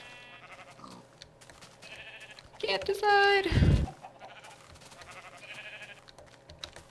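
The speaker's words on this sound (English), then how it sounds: "I'm going to lead these sheep back to my house" Sheep bleating in the video game Minecraft, one loud wavering bleat up close in the middle, over faint keyboard clicks, while someone talks quietly before and after.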